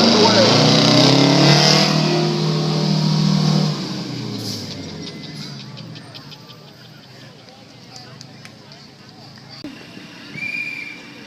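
An antique fire truck pulls away at a fire apparatus muster, its engine a loud low rumble that fades as it moves off, with crowd noise and talk continuing underneath.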